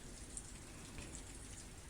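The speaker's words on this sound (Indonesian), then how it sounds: "Sekarang kan lagi hujan" Rain falling outdoors, a soft steady patter with scattered drops, quiet and continuous throughout.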